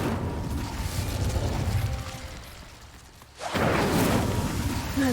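A fire spell cast in the video game Hogwarts Legacy bursts out as a sudden loud whooshing blast about midway through, after a softer stretch of mechanical game ambience, then roars on steadily to the end.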